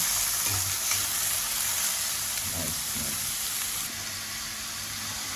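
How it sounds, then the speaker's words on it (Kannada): Chopped spring onion frying in a hot pan for an egg scramble, with a continuous bright sizzle and crackle throughout and a few low scraping stirs, close and steady. "ಫ್ರೈ ಮಾಡಿ"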